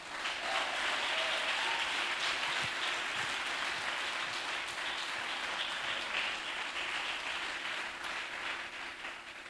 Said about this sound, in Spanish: Si vas a aplaudir, aplauda.